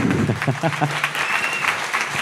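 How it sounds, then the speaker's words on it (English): Audience applause at a marketing association panel event in Dallas–Fort Worth, a burst of clapping mixed with a voice speaking over it, moderately loud and close. "How about some applause?"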